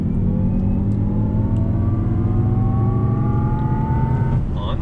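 2019 Jaguar I-Pace electric SUV accelerating hard, a loud close whirring motor tone rising steadily in pitch over road and tyre roar, continuous throughout with no talk.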